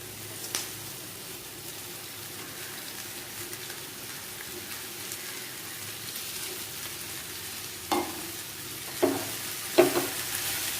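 Okra slices dropped into hot coconut oil for a Kerala upperi, a steady soft sizzle with several sharp bursts of crackling and stirring near the end, no voices.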